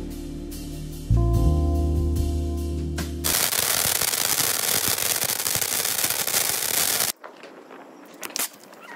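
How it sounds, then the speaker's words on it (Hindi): Diwali firecrackers go off in a loud, dense run of rapid crackling bursts that follows a brief tonal sound, then cut off sharply, leaving faint scattered noise. "उसके बाद हमने बहुत सारे पटाखे जलाए"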